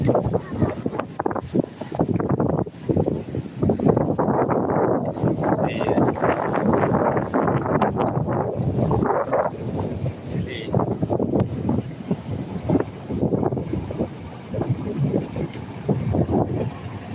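A fishing boat moves along the Ganges river, its low rumble blended with steady wind buffeting the microphone throughout, while people talk nearby.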